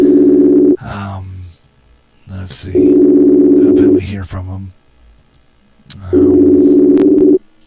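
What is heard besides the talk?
telephone ringing tone on a call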